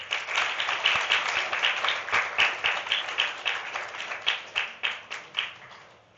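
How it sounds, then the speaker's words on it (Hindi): A small audience claps for a prize winner at a Sunday reflection, rhythmic and fairly steady hand claps at moderate volume that continue for several seconds before tapering off. "ताली बजाओ।"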